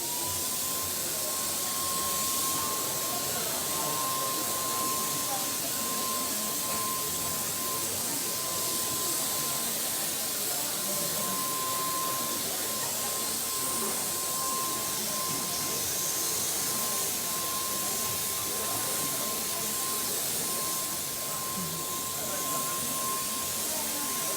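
A spray gun lays a very thin second coat of paint onto a door at a live stage show, giving a steady, continuous hiss that runs unbroken throughout without talk.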